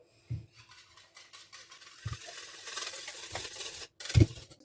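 Oil is stirred into MRE cooking ingredients in a bowl, making soft scraping and clinking sounds close by, with a few sharp knocks of utensil against dish and a louder clatter near the end.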